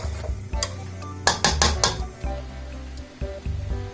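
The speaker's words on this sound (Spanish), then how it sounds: "Dejamos aquí que se vaya incorporando los ingredientes y que vayan friéndose un poco" Ingredients frying in a pan for a pork entomatado, a low rumbling sizzle broken by a quick burst of metal utensil scrapes and clinks against the pan in the middle, close by.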